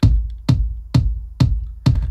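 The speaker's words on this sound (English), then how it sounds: "It's the kick drum." A techno kick drum hits five times in a steady four-on-the-floor pulse, each beat a loud, deep boom with a sharp click on top, played alone.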